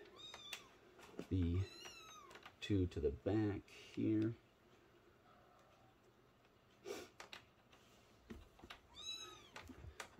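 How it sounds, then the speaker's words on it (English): Kittens meow several times, faint and high-pitched, in the background of an indoor room while a person talks and handles something nearby. "We have new kittens, so you can probably hear them meowing in the background."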